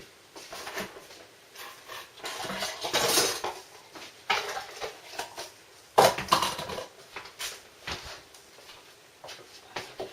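Metal pots and utensils clatter and clink in a kitchen during cold-process soap making, with intermittent handling knocks, close and fairly quiet, with a sharper clank partway through.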